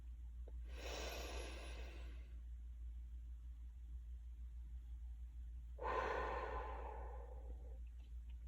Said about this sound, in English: Breathe in. And breathe out. One more time, slowly.